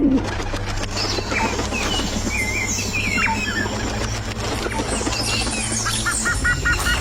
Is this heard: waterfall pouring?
no